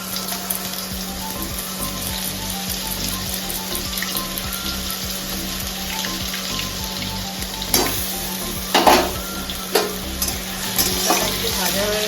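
Grated ginger and panch phoron spices fry in hot oil with a steady crackling sizzle, joined later by a few sharp clinks and scrapes from stirring.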